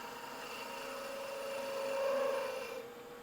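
A bowl gouge cuts wood on a spinning lathe while a Christmas ornament is turned, giving a steady, fairly quiet rasping hiss over a faint motor hum that swells briefly and then eases off.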